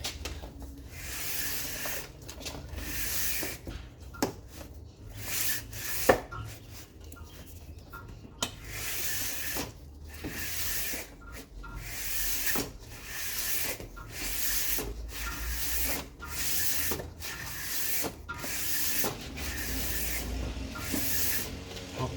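A tool scrapes a Citroen C3 cylinder head by hand in a workshop, giving repeated rhythmic rasping strokes, close and fairly loud, with short pauses between passes.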